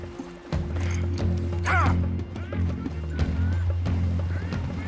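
Horse hooves clip-clop steadily nearby over a low engine-like hum, with a horse's whinny and a brief voice mixed in, in the video game Red Dead Redemption 2.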